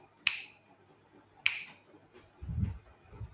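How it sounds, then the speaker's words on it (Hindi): Two crisp, close finger snaps about a second apart, each a sharp isolated click, followed by low muffled rustling. "और वो भी नहीं है तो चुटकी बजा दिया करो ऐसे"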